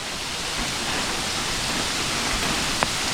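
A forest waterfall roars as a steady, loud wash of falling water near an abandoned monk's hut in the hills, with one faint sharper drip or tap near the end.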